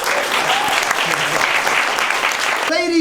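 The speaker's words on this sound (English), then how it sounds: "how about a big round of applause for your chef?" Audience applause for the chef at a Māori cultural village dinner evening in Rotorua, New Zealand: steady, dense clapping from a crowd fills the room throughout, with a brief tonal sound cutting in at the very end.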